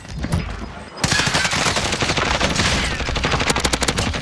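Call of Duty: Modern Warfare gunfire, sustained loud rapid bursts from about one second on, dense automatic fire with individual shots rattling toward the end.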